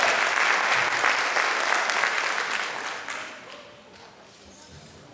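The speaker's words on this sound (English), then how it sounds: "Clap the hands for the senior class, graduating senior class." A crowd at a graduation ceremony for a senior class claps loudly and steadily, then the applause gradually fades away over a few seconds.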